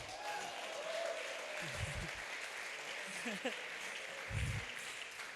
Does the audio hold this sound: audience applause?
yes